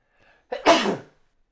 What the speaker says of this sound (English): I'm like about to sneeze.